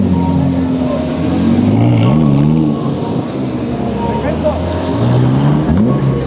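An Audi R8 supercar drives past at a car meet, its engine note rising and falling in strong revving tones close by, with people talking over the sound throughout.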